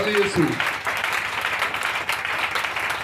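Church congregation applauding and cheering in praise during a French-language evening sermon, a dense, steady wash of clapping and voices that stays loud and close for the whole stretch, with a brief shouted voice at the start.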